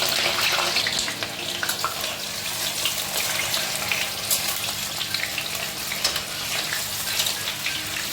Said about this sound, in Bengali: কড়াইতে আমি সর্ষের তেল বসিয়ে দিয়েছি, গরম হয়ে গেছে তেলটা। এর মধ্যে আমি বেগুনগুলো একটু ভেজে নেব।